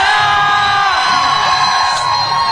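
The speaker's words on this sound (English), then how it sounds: "Let me hear the crowd." A crowd at a live local rock show in a Deep Ellum club cheers and whoops loudly, with sustained shouting and high yells blending into a continuous roar close by.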